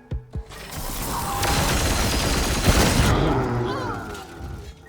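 Video game battle from Warhammer 40,000: Chaos Gate, with a dense roar of machine-gun and cannon fire building into continuous noisy bursts, preceded by a couple of sharp clicks and trailing off into rumble.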